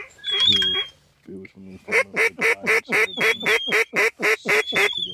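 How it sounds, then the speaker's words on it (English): A duck quacks over a hunting blind, starting with a short burst under talk, then a loud, steady series of about a dozen rhythmic quacks or calls close by. "this duck went from approximately A mile. 1 mile to 30 feet above the blind"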